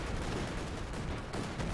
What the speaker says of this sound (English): Major unleashed artillery there